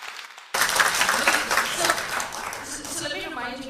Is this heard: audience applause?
yes